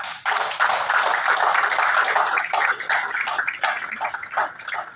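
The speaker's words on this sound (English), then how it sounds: "the Sri Lankans in this audience needs a better round of applause to all these gentlemen here" Dense, loud applause from an audience of Sri Lankans at a Colombo half marathon event, a continuous wash of many hands clapping for about five seconds with no talk over it.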